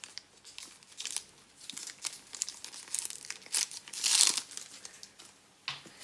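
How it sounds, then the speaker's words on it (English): Plastic packaging crinkles and rustles in bursts as a Coach Cassie 19 handbag in canary with silver hardware is unwrapped, quiet and close with one louder crumpling swell near the middle. "there is something else to unwrap right here"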